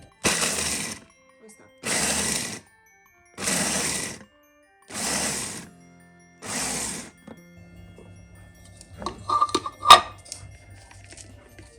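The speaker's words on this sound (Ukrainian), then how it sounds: "подрібнювати необхідно імпульсами, інакше може утворитися горіхова паста" A food processor chopping nuts whirs in five short, even pulses with gaps between, followed by faint clinks and rattling as the machine is handled.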